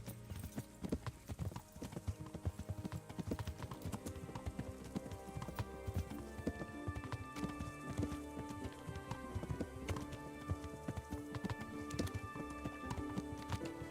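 A horse's hooves clip-clop in a quick, steady rhythm throughout, quiet but continuous with no pause.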